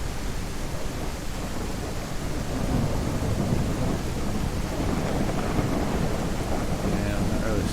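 Rain and thunder from the Ultra Dynamic Weather effect in Unreal Engine, heard as a steady dense wash of rainfall with low rumbling thunder throughout, loud and continuous with no talk.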